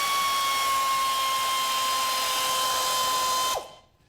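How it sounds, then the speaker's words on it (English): Harbor Freight air ratchet running in a CNC machining shop, a loud continuous high-pitched pneumatic whine with a steady tone for about three and a half seconds before it abruptly stops. "El Cheapo air ratchet."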